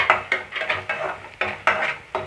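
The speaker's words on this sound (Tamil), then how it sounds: "கிளறி விட்டுப்போம்." A spoon scrapes around a pan as rava kichadi with tomato, turmeric and salt is stirred, making about eight brisk, rhythmic scraping strokes, close and clear, with a light sizzle underneath.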